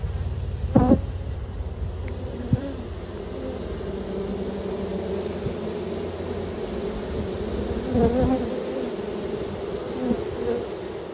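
Honeybee swarm buzzing steadily and densely all through, with louder passes from single bees flying close and faint sounds in the background.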